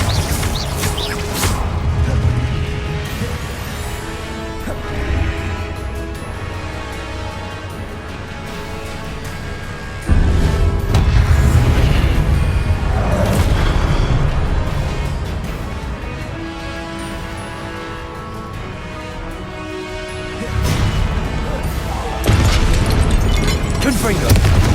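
Repeated booming spell blasts from Confringo fire-spell explosions in Hogwarts Legacy during a fight at Rookwood Castle, heavy low thuds recurring over a dense bed of game effects and music, louder bursts near 10 and 21 seconds.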